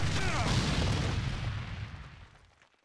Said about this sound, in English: See those gunpowder barrels? Pull out your pistol and shoot them!